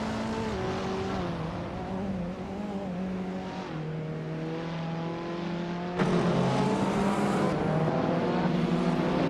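A 2010 Opel Corsa S2000 and other race cars drone continuously at high revs, engine pitch shifting through gear changes, loud and close throughout with a louder surge near the end.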